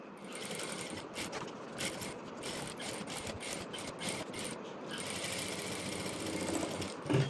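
A sewing machine runs steadily, top-stitching along the lining of a saree being made into a maxi dress, its fast mechanical chatter continuous and close with brief slowdowns.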